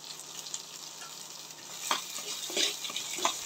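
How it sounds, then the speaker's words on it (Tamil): Onion and crushed garlic sauté in a pan at a quiet, steady sizzle, with a few soft spoon scrapes and light clinks toward the end. "வெங்காயம் 1, 4 பல் பூண்டு நசுக்கி வச்சதை போட்டு நல்லா வதக்கிக்கலாம்."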